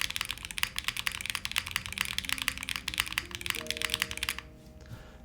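Typing on a Leo80 custom TKL mechanical keyboard with an aluminum case: a rapid, close run of crisp clacky keystrokes that stops abruptly near the end.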